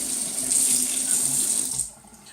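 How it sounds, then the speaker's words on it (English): Tap water runs steadily at a barbershop sink for a quick rinse, a close, continuous hiss and splash that cuts off near the end, leaving near silence. "I'll just do a quick rinse"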